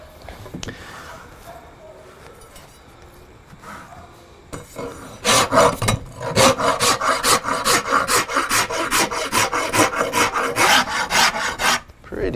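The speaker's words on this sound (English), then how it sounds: "I'm going to use my my farrier's rasp, and I'm going to take these sides right on down to the lines that we drew" A farrier's rasp files down the sides of wooden self bow limbs, starting with quieter scraping and then settling into loud, rhythmic back-and-forth strokes close by, each rough rasping pass clearly separated.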